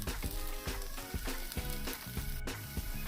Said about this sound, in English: Cook for a little while until the red peppers get soft